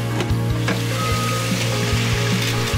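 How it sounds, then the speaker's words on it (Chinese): Meat seared and stir-fried with onions on a flat teppanyaki iron griddle at a street food stall, a steady sizzling hiss with faint spatula knocks recurring at an even rhythm. "铁板烧方式来炒肉"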